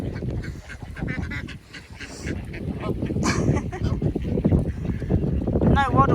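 Several ducks on a windy, rainy day give scattered quacks and honking calls amid gusty outdoor noise, with a person talking nearby and louder calls near the end.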